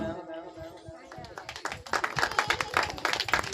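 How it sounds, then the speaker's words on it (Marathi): Audience clapping at a women's cooking competition certificate ceremony as Vishakha Sonawane is honored, starting sparse behind a voice and swelling into brisk, dense applause. "विशाखा सोनवणे मॅडमसाठी जोरदार टाळ्या वाजवा"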